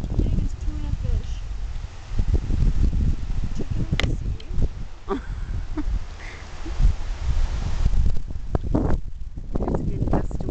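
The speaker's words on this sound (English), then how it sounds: "There's a good gust of wind." Strong gusts of outdoor wind on an October day rumble and buffet the microphone in a continuous low roar that swells and eases, with faint voices and scattered small knocks in the background.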